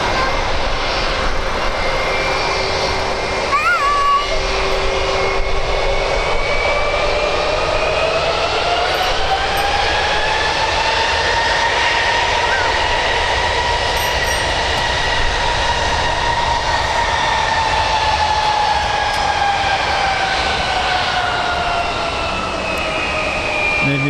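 A Speedbird Express jet at Birmingham Airport gives off a loud, sustained engine roar with a whining tone that rises and falls over about twenty seconds.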